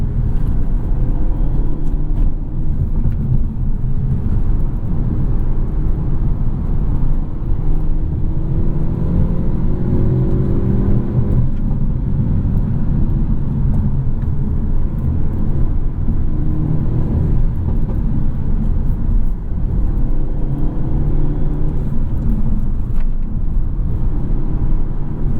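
Interior engine drone of a 2024 Hyundai Elantra N, a front-wheel-drive six-speed manual, pulling hard through mid-speed sweeping corners, a loud, sustained rumbling note with shifting pitch and no talk over it.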